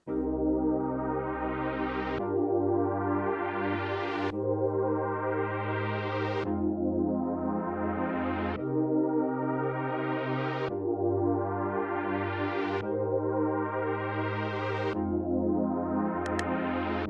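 Soft synth pad chords swell and sustain, changing roughly every two seconds in a steady, slow progression with a bright, airy top.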